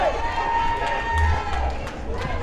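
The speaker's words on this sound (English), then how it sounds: "And the crowd, the home crowd erupts." A home crowd at a women's cricket final cheers a boundary, a broad distant roar and whoops rising under a commentator's continuous voice.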